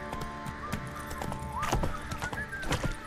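Galloping horse hooves from The Witcher 3 video game, with a quick rhythmic clip-clop and a brief whinny, close and fairly loud over a light background.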